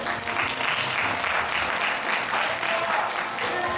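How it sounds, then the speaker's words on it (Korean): A church congregation applauds during a Sunday worship service, a steady dense wash of clapping from many people that holds at an even level throughout, with no talking over it. "박수 보내주세요."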